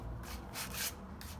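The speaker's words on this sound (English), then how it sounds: "All I'm going to do is scuff it up with some 50 grit sandpaper" A van's rear bumper is scuffed by hand with coarse 50 grit sandpaper, giving close, raspy back-and-forth scraping strokes in a few uneven surges, with no one talking.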